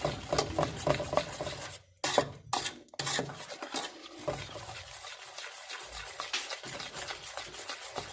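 A spoon scrapes and stirs around a pot in quick bursts, with bubbling, simmering sugar syrup for natef underneath and brief pauses between strokes.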